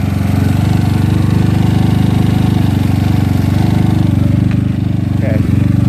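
A GY6 scooter engine runs steadily with a loud, constant droning hum and no change in pace, close by, with a faint voice beneath it.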